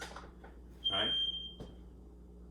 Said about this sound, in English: That's a smoke alarm.